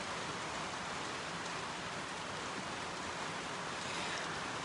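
Steady rain falls outdoors in Berlin as an even, dense hiss. It is faint and unbroken throughout, with no voices.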